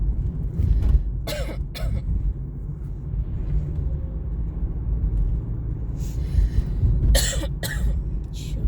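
A person coughs inside a car driving home from Itasca, Illinois. Two short bursts come near the start and more at the end, over a steady low road and engine rumble.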